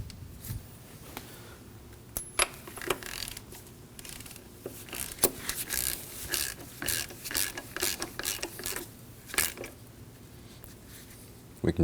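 A ratchet wrench snugs down a new oil pressure sensor, threads coated with sealant, on a 2003-2006 Subaru Baja, giving repeated quick clicking bursts at close range with short pauses and some faint background noise.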